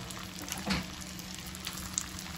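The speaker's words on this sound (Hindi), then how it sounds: "अब मैं मीडियम फ्लेम पे एक एक करके मीट बॉल मैं इसमें फ्राई करने के लिए डालूंगी।" Meatballs frying in melted butter over a medium flame give a steady, soft sizzle with faint bubbling crackle throughout, close and continuous, with no talking.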